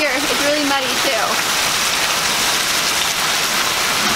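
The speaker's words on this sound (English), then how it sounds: "Look at all of this hail." A massive hail storm pounds the ground in the Phoenix area as a steady, loud, dense hiss of falling ice, with people talking over it early on.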